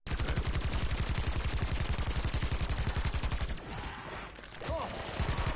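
Rapid, steady automatic gunfire in Black Ops 4 rattles loud and close for over three seconds, drops into a brief muffled lull, then the shooting resumes near the end.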